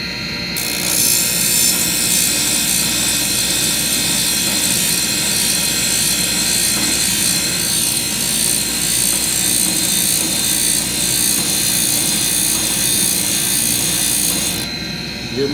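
A metal stop finger is ground freehand on a grinder, giving a steady, loud, high-pitched grinding whine that runs unbroken for about fourteen seconds over a constant motor drone.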